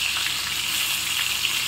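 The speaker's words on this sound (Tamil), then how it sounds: "அந்த அடியில் வேகாமல் இருக்கிறதுனால சவுண்டு வந்து பொரியல் சவுண்டு வந்து ஜாஸ்தியாக இருக்கும்" Fish fries in hot oil in a pan for a Nadar-style Tamil fish fry, giving a steady, dense hiss and crackle that holds at an even level throughout with no voices.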